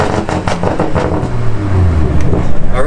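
A BMW Z4 with a downpipe and no muffler idles loudly up close, then rises in a short rev, its deep exhaust rumble growing heavier toward the end.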